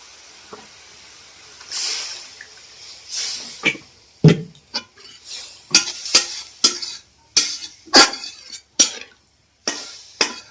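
Water poured into spice paste frying in a pan for potol dorma, a Bengali stuffed pointed gourd curry, gives bursts of loud sizzling and hissing steam, followed by repeated short scraping stirs of the spatula.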